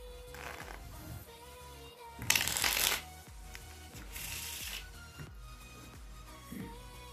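A deck of ordinary playing cards being shuffled, with a loud riffle burst near the middle and softer shuffles around it, close and without talk.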